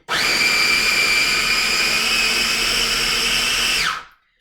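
A food processor set to puree whirs through hummus ingredients with a loud, steady high-pitched motor whine that holds for about four seconds and then cuts off abruptly.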